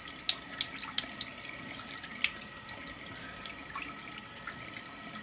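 Water runs from a bathroom sink tap as a caulk tip is rinsed under it, a soft steady stream with small splashes and drips breaking the flow, close and fairly quiet with no talking.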